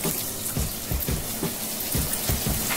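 Chicken cooking in a pan, a soft steady bubbling and sizzling with small popping bursts recurring every half second or so, close and continuous, with no talking.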